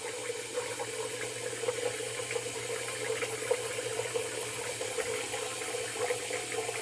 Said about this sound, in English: let me get a little water in here. Get a little water in the basin.